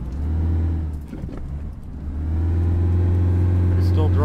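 A vehicle engine in the video game Squad hums loud and steady while driving, dipping briefly around a jump and then swelling again, with a person talking over it.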